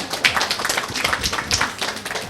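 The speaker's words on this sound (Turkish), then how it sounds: "Alkışlayalım bakayım Hatay'ı hep beraber" Diners in a Turkish restaurant in Darmstadt, Germany clapping together for Hatay, a steady patter of many hands at moderate distance, fairly soft, with no voices over it.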